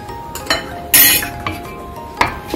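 A metal spoon clinks against a bowl a few times in quick, irregular taps while chili powder, ajwain and cumin are mixed for chakali dough.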